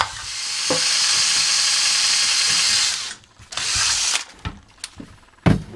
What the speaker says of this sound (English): I like to throw a small drill bit in there in case there's a little bit of pressure